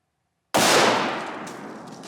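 A single loud blast from a .44 Magnum revolver fired in single action at pumpkins, striking abruptly after silence and ringing out in a long decaying echo.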